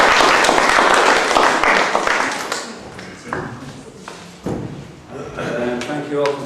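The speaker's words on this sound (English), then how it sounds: "please could I get a round of applause for Colin." Audience at a talk on megalithic sacred geometry applauds to welcome the speaker, a loud burst of clapping that fades within about three seconds, followed by scattered thumps and handling noises in the room.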